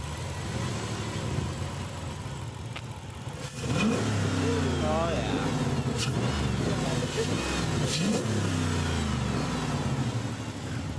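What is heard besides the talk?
car engine running after cold air intake install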